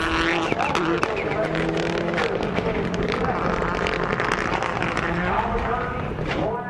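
Rallycross race cars, including a Hyundai, roar through a chicane at a Global Rallycross event in Texas, their engines loud and continuous under a commentator's steady talk.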